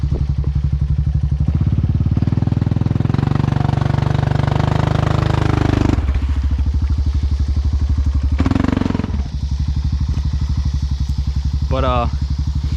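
A Honda Rancher ATV engine labours loudly and up close as it climbs out of a hole, a continuous rough, throbbing drone with surges and a brief dip in load.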